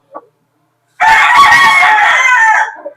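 A single loud gamefowl rooster crow rings out close by on a game farm, lasting about a second and a half, with a faint cluck just before it.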